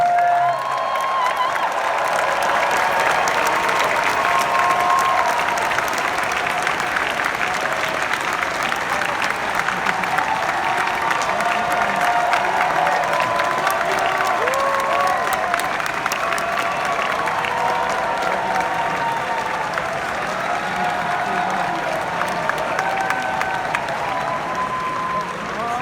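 Large Hall H audience at the San Diego Comic-Con 2025 TRON: Ares panel applauding and cheering, a dense, sustained roar of clapping and whoops lasting the whole stretch, with voices mixed into the crowd noise.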